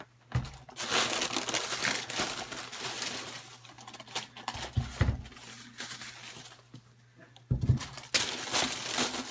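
Tissue paper from an Air Jordan 11 shoebox crinkles close up in several bursts with short pauses between them, rustling loudly and then going quiet.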